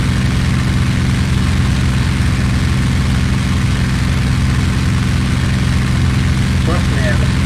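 A WWII-era aircraft engine at maximum throttle in IL-2 Sturmovik, a loud, steady, deep droning roar that fills the whole clip without letup.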